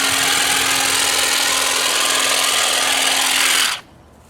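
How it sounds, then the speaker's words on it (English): Loud, close buzz of SAKER 20V cordless grass shears running steadily through grass, a constant motor whine held for a few seconds before cutting off sharply. "So we can use the grass clipping shears on here."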